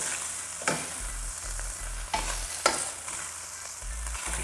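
Yellow onions sizzle in hot oil in a pan, a steady frying hiss broken by a few sharp clatters of stirring, loud and close with no talk.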